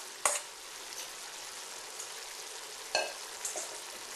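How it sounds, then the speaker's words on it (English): Jalapenos and onions hit a hot pan over high heat, a continuous faint sizzle with a few sharp clatters as the vegetables drop in and get moved around. "I'm going to add the vegetables that I prepped, the jalapenos and the onions"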